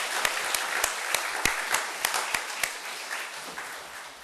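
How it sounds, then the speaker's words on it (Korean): A church congregation gives a round of applause during a Korean service, a dense patter of clapping with a few sharp, prominent claps standing out over roughly four seconds. "믿으신 분은 큰 박수로 한번 우리 영광을 하나님께 영광 드리겠습니다"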